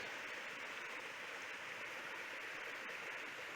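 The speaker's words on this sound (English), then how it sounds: "Little waterfall." Small waterfall on a spring-fed creek in Lanphier Canyon, pouring in a steady, even broadband rush of water that stays constant and close throughout, with no voices.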